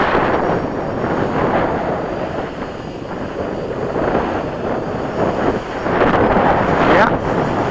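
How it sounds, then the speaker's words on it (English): Steady wind rumbles and buffets the microphone outdoors while flying an FPV drone, a constant low roar with gusts swelling near the end. "A little on the windy side."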